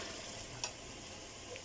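Chicken pieces go into a pan of fried spices for chicken korma, giving a faint, steady sizzle with one small click and no talk.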